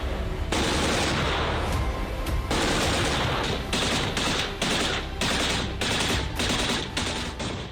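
Bursts of automatic gunfire crackle in repeated volleys, some long and some short, with rapid shots echoing over a steady background din.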